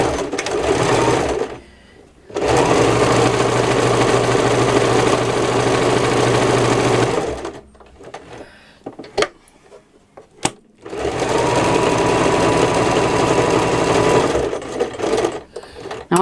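A domestic sewing machine stitching patchwork runs in two long steady bursts of rapid mechanical whirring and chattering, close up, with quieter clicks and handling noises between them.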